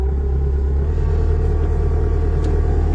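A heavy machine's diesel engine idles steadily while warming up, with a deep, constant rumble and low throb, loud and close, no voices.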